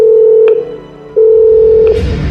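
A telephone rings with a loud, steady electronic tone in two long bursts separated by a short pause, followed by faint rustling.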